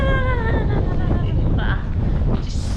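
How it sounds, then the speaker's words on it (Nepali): Strong cold wind gusts on the Isle of Wight, buffeting the microphone with a loud, rough, continuous roar while a brief voice rises at the start. "कस्तो के हावा त"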